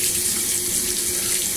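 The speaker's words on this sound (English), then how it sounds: "Turn on some water." Water runs steadily from a bathroom tap into a sink for hand washing, a loud, close, continuous rushing stream with no voices.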